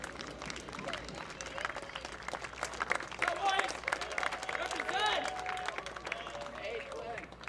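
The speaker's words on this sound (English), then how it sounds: "give a quick round of applause for everyone that was nominated," Applause for the nominated players and coaches at a high school ultimate frisbee championship, a steady crowd clapping that swells and fades over several seconds, with voices mixed in beneath it.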